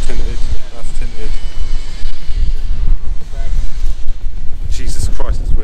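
Strong wind buffets an outdoor microphone beside a 2005 Honda Civic Type R EP3, producing a heavy, constant low rumble and gusty roar. Voices talk intermittently through it.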